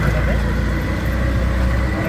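Auto rickshaw riding on a road, its engine rumbling steadily and close with constant low-frequency drone and road noise throughout, no clear speech over it.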